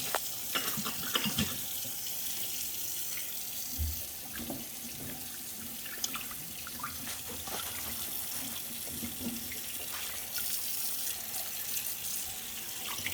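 Tap water runs steadily into a kitchen sink while vegetables are washed, a continuous rushing splash with occasional clinks and knocks from handling, fairly faint and without talk.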